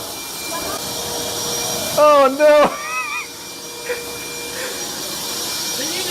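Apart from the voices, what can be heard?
vacuum cleaner running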